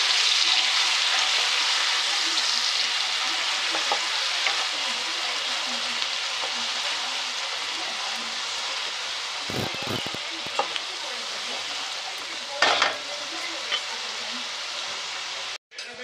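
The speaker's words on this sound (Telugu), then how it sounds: "ఆనియన్ పేస్ట్ వేసి బాగా కలపాలండి." Onion paste sizzles in a frying pan, a bright, continuous hiss that slowly fades. Scattered stirring scrapes and a few sharp knocks from the spoon come near the end.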